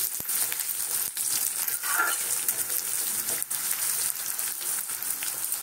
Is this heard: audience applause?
no